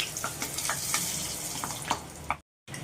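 Motichoor laddu batter frying in hot oil in a pan, a steady close sizzle and crackle with small popping bursts, continuous until cutting out briefly near the end.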